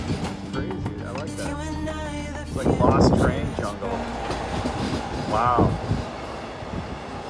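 Rumbling and clatter from an old train on the Serbian railway between Bar and Belgrade, running steadily throughout, with voices talking over it.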